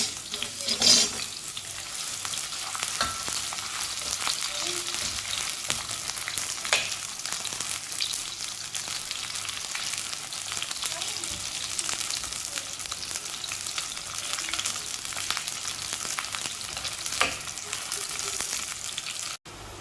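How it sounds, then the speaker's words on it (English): Chopped onions fry in a generous amount of hot oil for a tamarind prawn dish, giving a steady, close sizzle that runs unbroken throughout with a few faint kitchen clinks. "Fry the onions."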